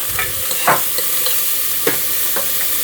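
Chopped onion and celery sautéing in a pan, a steady hiss of frying with a few soft stirring scrapes and taps, fairly loud and up close, no voices.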